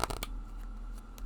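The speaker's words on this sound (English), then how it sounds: "shuffling." A tarot card deck being shuffled, a few quick papery riffles and snaps at the start followed by softer sliding cards, close and fairly quiet.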